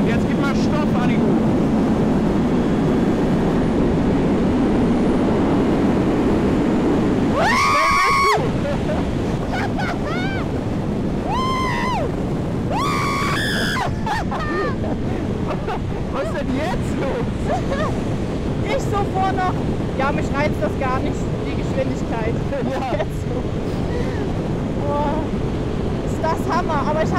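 A Yamaha R1 motorcycle cruises on the Autobahn at about 150 km/h, its sound buried under loud, steady wind roar at the rider's helmet, with a person speaking over the din.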